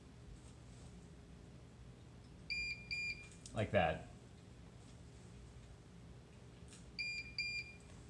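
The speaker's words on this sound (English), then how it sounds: "When I press it, it doesn't start, it just gives two beeps." A Bosch dryer with a faulty start button answers a press with two short, high electronic beeps, repeated twice with a button click between, quiet against a faint background hum, while a person briefly speaks.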